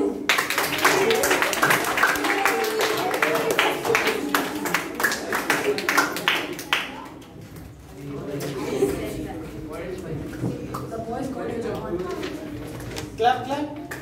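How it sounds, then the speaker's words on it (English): A crowd claps for a second-prize winner at a youth leadership programme meeting: a burst of many hands applauding for about seven seconds, then it fades out and voices continue talking. "Clap, clap."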